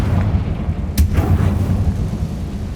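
A Confringo fire spell in Hogwarts Legacy bursts with one sharp, loud explosive crack near the one-second mark, then a brief rumbling tail over a steady low background drone.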